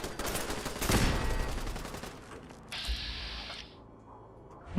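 A burst of gunfire from Gunners fighting raiders in Fallout 4 erupts near the start, then rattling shots and mechanical clatter trail off into quieter background noise.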